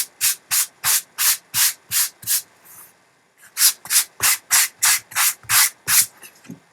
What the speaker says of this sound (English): let's go ahead and do this process one last time. The light sanding.